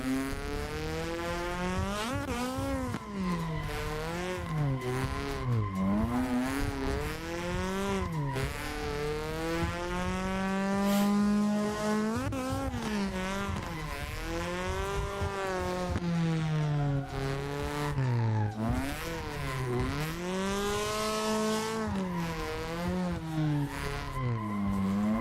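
Car drifting during drift practice, with long wailing tire squeals and a revving engine rising and falling in repeated sweeps, continuous and fairly close, with no talking.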